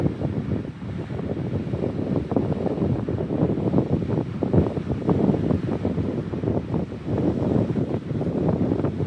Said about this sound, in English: I thought I found a spot out of the wind, but nope.